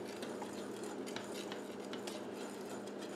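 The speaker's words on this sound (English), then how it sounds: "we want to cook this again on medium-high heat, whisking continually" Chocolate pudding whisked continually in a pot over medium-high heat, a faint steady scraping with light metallic clinks of the whisk against the pot.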